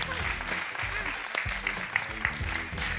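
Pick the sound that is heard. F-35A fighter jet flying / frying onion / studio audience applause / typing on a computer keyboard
studio audience applause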